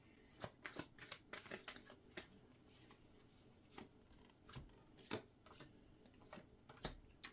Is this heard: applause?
no